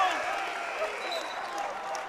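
High school boys basketball crowd, Eagan against Eastview, cheering after a lob dunk: a steady, dense roar of voices and clapping throughout, fairly loud and continuous.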